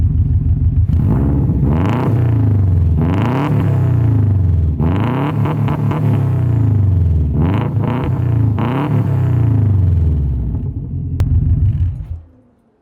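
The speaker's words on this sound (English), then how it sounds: "I'll give you guys a quick sound demonstration of some free revving." A modified Subaru car engine revs freely several times in succession, each rise in pitch followed by a drop back to idle, loud and close, then settling at the end.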